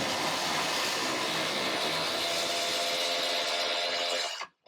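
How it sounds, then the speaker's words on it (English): A power ratchet runs continuously on a bolt during a power steering install on a RZR 900S, a loud, steady whirring grind lasting over four seconds that cuts off abruptly at the end. "now we're going to have to ratchet this again"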